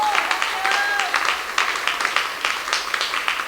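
Church congregation claps loudly during a pastor's sermon, a busy, uneven patter of many hands with a few brief vocal sounds mixed in.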